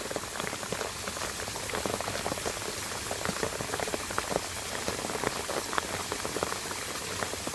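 Steady monsoon rain pours down in a village, a dense continuous hiss with scattered sharper drops tapping close by, no voices.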